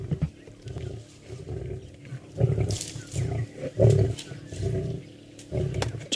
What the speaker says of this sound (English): Listen carefully, that male's growling every now and then.